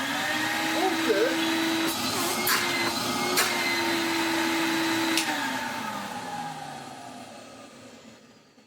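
The motor of a 1993 Henry vacuum cleaner runs with a steady whining hum, then is switched off and winds down over several seconds. A few clunks occur while running, and a person talks over it.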